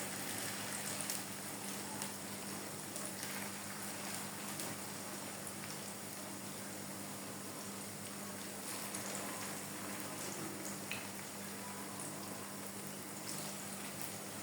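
Red lentil fritters frying in oil over medium heat, a steady, quiet crackling sizzle with a low hum underneath, continuous and without talk.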